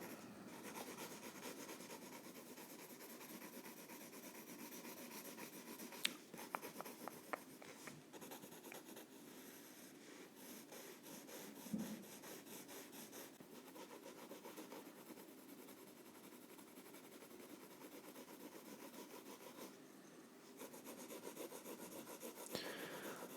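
Colored pencil scratching across the paper of a coloring book, a soft, continuous rasping rub in close, quiet strokes that go on steadily with occasional small taps and no voice.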